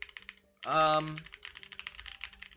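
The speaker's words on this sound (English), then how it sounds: "Very nice sounding keyboard." Rapid, crisp clacking keystrokes on a Parallel Limited mechanical keyboard with an FR4 plate, steady and close. A short burst of speech briefly cuts across the typing near the start.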